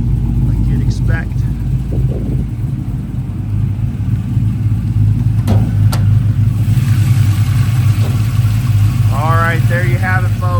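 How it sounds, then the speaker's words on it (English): A 1972 Chevy C10 restomod's LS1 V8 with shorty headers and an automatic idles steadily and fairly loud throughout, a deep continuous rumble with a couple of sharp clicks and some voices near the end. "Here's your LS1 engine."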